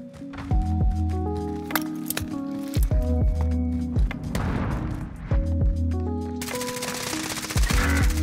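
Uzi submachine gun firing in a multiplayer shooter, with repeated rapid bursts of sharp close shots in a loose rhythm alongside footsteps and game effects, loud and up front.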